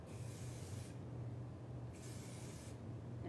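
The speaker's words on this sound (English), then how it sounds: "So section by section, spray it all together." Headstrong hairspray hisses from an aerosol can onto backcombed curly hair in two sustained bursts separated by a pause, with the start of a third burst at the end. The spray is close and fairly quiet, with no talking.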